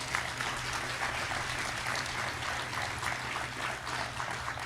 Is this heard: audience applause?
yes